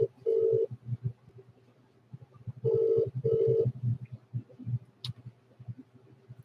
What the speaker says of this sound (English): Let's see if we can get her on the phone.